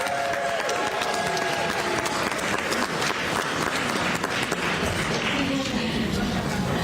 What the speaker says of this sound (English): Give a round of applause for Representative Fitzgibbon.